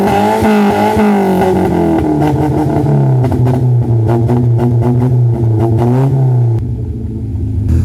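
A Toyota Corolla engine, fitted with a homemade throttle cable bracket, runs and revs repeatedly with a rising and falling droning tone, close and loud throughout before settling back toward idle near the end.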